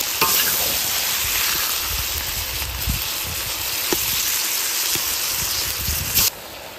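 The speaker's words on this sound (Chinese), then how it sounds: "再倒入腌好的猪肝， 大火炒至八成熟" Marinated pork liver stir-fried in a wok over high heat, a loud continuous sizzle with repeated scraping strokes of the spatula, close up and steady, with no voices.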